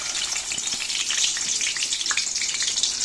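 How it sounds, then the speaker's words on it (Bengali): Tilapia from a marsh sizzles steadily in hot oil, a dense, even frying hiss with scattered pops and crackles, close and continuous throughout. "চলো মাছগুলো ভেজে নিই"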